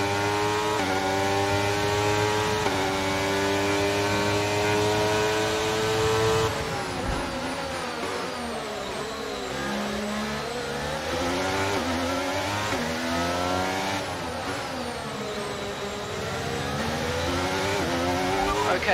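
An F1 23 race car engine revs loudly and continuously in a video game at Baku, rising and falling in pitch through gear shifts across a long sustained stretch.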